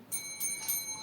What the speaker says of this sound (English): it's just me cheering for you with the bell